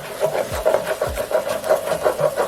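Spoon steadily scraping and rubbing across the bottom of a pan while stirring thick egusi soup, a rhythmic rasping stroke repeating about twice a second.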